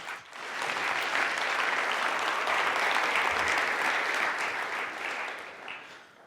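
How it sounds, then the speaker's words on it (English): Dense, sustained applause from a conference audience at a web developer event in Oslo, a loud even wash of many hands clapping for several seconds before tapering off at the end. "Give him a round of applause."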